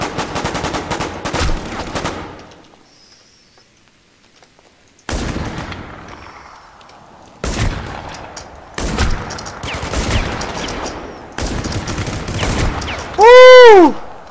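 Gunfire from the online shooter War Inc: repeated loud bursts of rapid automatic fire, separated by quiet gaps, with a rising and falling electronic tone near the end.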